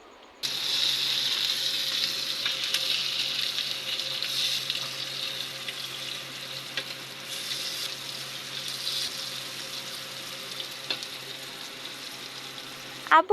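Steady hiss of eggplant slices frying in hot oil, continuous throughout with faint clicks and clatter, fairly close and with no talking.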